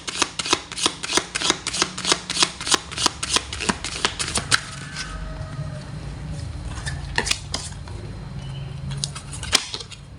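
Tarot cards are riffle-shuffled by hand in a fast run of sharp, close, rhythmic snaps, followed by softer rustling and a few isolated flicks.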